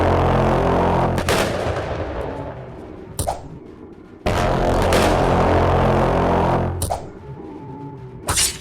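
Explosive vials going off in the dark fantasy game Fear and Hunger during a fight with Gro-Goroth, two long roaring blasts with heavy low rumble, each followed by sharp impact cracks, loud and alone.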